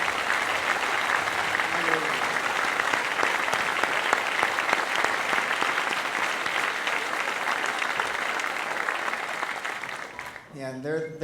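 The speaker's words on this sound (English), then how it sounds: "give a round of applause to all the parents who have been fighting their butts off for their children with disabilities" Audience at a charity event giving a long, steady round of applause, loud and dense, that fades near the end as a voice begins speaking.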